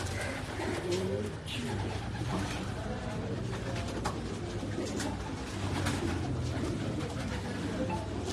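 Kamangar pigeons kept on a Karachi rooftop coo steadily through a dense, continuous backdrop of rooftop ambience, with people talking nearby over the birds.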